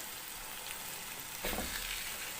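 Carrot halwa cooking in ghee in a pan, a steady soft sizzle and frying hiss with a brief stirring scrape partway through, faint and close, no talk.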